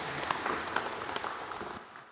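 Steady applause from a large church congregation during a worship service fills the space, a dense wash of clapping that slowly fades toward the end.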